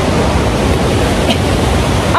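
Steady rain falls outdoors near a chilly park, a dense, even hiss that fills the whole clip with no clear individual drops and no talking.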